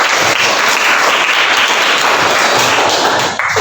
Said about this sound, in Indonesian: Tepuk tangan anak.